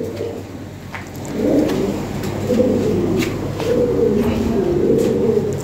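Toy Lahori pigeons coo in soft, repeated low rolling calls close by, several overlapping phrases in a steady rhythm, with faint background noise.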